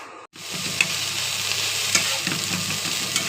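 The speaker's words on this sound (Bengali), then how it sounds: "এই তো আমি চিংড়ি মাছ ভেজে নিচ্ছি। তো আমি কিন্তু এটা ধুয়ে তেলে ভেজে নিচ্ছি।" Washed prawns frying in hot oil in a Bengali home kitchen, a loud, steady close sizzle with a few faint utensil taps over it.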